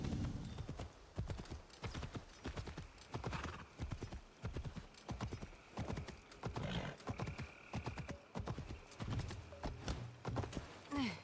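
Horse hooves clip-clop steadily at a brisk pace through a town in the video game Assassin's Creed Shadows, a continuous rhythmic stream of close, moderately loud beats with a brief whinny.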